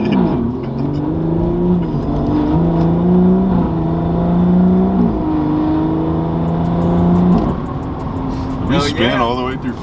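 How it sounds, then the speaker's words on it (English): A BMW F30 340i engine pulls hard in first and then second gear during a soft launch with short shifting. The engine note is loud and rises in steps with gear changes, and people talk over it. "But that was like a soft launch."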